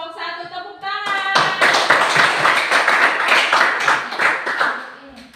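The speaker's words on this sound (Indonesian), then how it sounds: "Tepuk tangan" A classroom of students claps their hands after a short group interview, a burst of brisk clapping that starts right after a spoken voice and stays steady for several seconds before tapering off.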